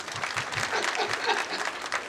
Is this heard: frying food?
no